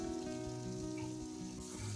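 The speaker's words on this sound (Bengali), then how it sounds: "কেটে রাখা পটলগুলোকে তেলে ছেড়ে দিচ্ছি" Cut pieces of pointed gourd fry in hot oil in a wok, giving a continuous quiet sizzle with a faint hum underneath and no talking.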